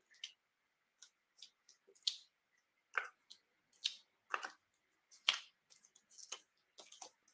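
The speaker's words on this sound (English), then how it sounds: "cut out one of the little Shoppes from the designer series paper" Designer series paper from the Les Shoppes line being cut out by hand, giving a string of short, crisp snipping clicks in irregular bursts, close and fairly quiet, with no talking.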